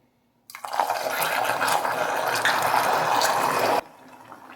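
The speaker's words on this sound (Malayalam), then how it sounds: "ചൂടുവെള്ളം അല്ല ഈ തണുത്ത വെള്ളം ഒഴിച്ചു കൊടുക്കാനായിട്ട്" Cold water is poured into a pan for a banana cake, a loud, close, continuous gushing splash that starts abruptly and runs for about three seconds before stopping.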